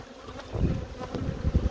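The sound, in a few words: honeybees buzzing around hive at apiary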